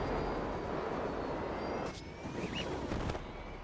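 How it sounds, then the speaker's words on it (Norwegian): An airplane in the video game Grand Theft Auto 5 drones steadily with a broad, wind-like roar that dips partway through and then continues, with no voices. "Det kommer flyet bare krasje i oss, ja."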